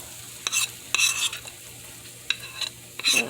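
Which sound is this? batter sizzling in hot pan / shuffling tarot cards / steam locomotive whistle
batter sizzling in hot pan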